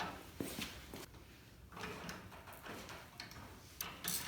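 Ratcheting clicks of a 9/16 wrench being turned on a bolt of a race car's suspension near the brake line, a series of close, irregular metallic ticks and knocks with no talk.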